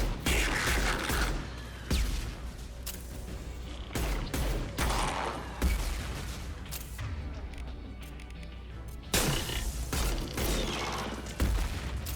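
Heavy gunfire in the Mass Effect 2 video game during an intense firefight: repeated bursts of rapid shots and sharp impacts, loud and close, separated by brief quieter gaps.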